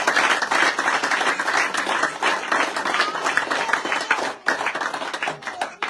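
A church congregation claps and applauds together for a woman, dense continuous clapping at a steady level throughout, with voices mixed in the crowd.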